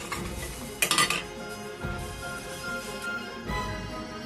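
Dishes and a plate clink and knock on a kitchen counter while pancake batter is being readied, with a sharp burst of clattering early on and softer handling sounds and a later thud under a steady background hum.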